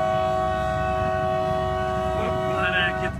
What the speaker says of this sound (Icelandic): Kveðjum flautið.